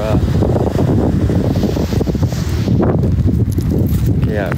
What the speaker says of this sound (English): It's also really windy, very windy.